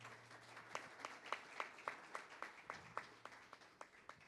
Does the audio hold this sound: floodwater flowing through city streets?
no